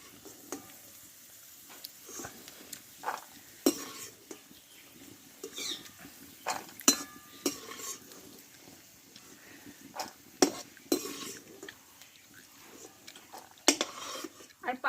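Peanuts are fried in a pan with light sizzling, broken up by frequent scraping and clattering stirs of a spatula against the metal, fairly quiet and close.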